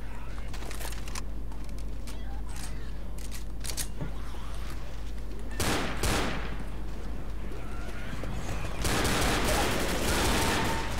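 Gunfire in Left 4 Dead during an alley fight with a zombie horde, loud shots over constant combat noise, with heavier blasts about midway and near the end.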